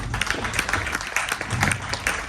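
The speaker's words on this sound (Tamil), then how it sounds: "ஸோ அவருக்கு ஒரு கரகோஷங்களை கொடுத்துடலாம்." Audience applause at a Tamil business motivation training event, a short burst of scattered clapping from a crowd, fairly steady throughout.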